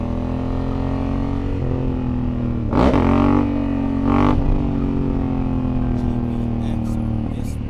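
A Yamaha MT-09 SP motorcycle engine drones loudly while riding on an English countryside road, with two sharp revs rising and falling over the steady hum of wind and engine.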